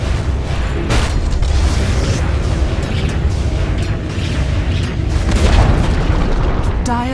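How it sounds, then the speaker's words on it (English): A tower being destroyed in Dota 2, a loud, continuous rumbling blast of booms and crumbling debris, with a brief electronic chime near the end. "Dire's middle tower has fallen."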